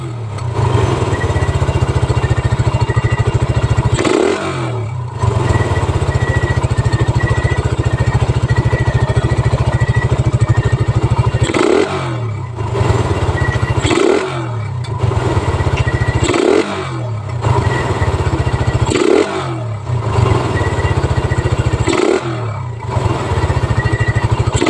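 Suzuki Raider 150 motorcycle tuned with a 28mm round carburetor, engine held at high RPM, a loud close sustained buzzing roar broken by several sharp throttle dips and recoveries, no talk.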